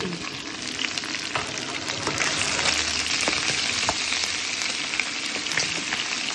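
Onion and bell pepper hit a hot pan alongside browned sausages, giving a steady, close crackling sizzle with bright spitting pops throughout, no voices over it.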